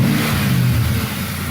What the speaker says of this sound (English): as soon as you touch the throttle, the engine feels like it wants to accelerate a little harder than it did before